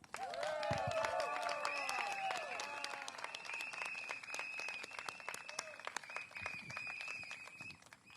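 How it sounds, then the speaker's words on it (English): Outdoor applause and cheering for a candidate at a People's Power Party rally on a field beside a bus interchange, with crowd clapping, voices and whistles, loudest at first and then tapering to scattered claps. "A round of applause to her"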